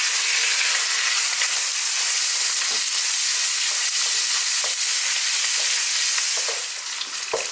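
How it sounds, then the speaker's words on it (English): Pork stir-fries over high heat with a steady, dense, loud sizzle and hiss, and faint scrapes of stirring run throughout. "We're going to stir fry it for about 4 to 5 minutes. Keep stirring it, high heat."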